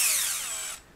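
A DeWALT DCD710 12V Max 3/8-inch cordless drill/driver with a brushed variable-speed motor whines at high speed, running steadily up close for most of a second before cutting off abruptly.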